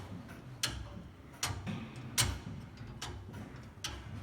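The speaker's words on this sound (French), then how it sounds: "Là on entend le tic-tac." A 1739 François Pelletier mechanical clock with a worn escapement tooth ticks steadily, each sharp click spaced roughly evenly and close by, faint against a quiet room with no talking.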